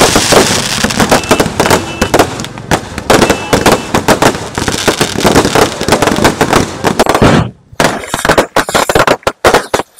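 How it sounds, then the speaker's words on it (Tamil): Fireworks go off at night during a village Aadi festival, a dense barrage of rapid crackling bursts and bangs, loud and continuous before thinning into scattered pops near the end. "அடுத்த நாள் நைட் பார்த்தீங்கன்னா வான வேடிக்கைலாம் வச்சுருந்தாங்க."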